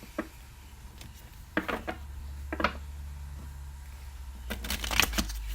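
Soft riffling and flicking of tarot cards being shuffled, in short irregular bursts against a quiet background, with a denser flurry near the end.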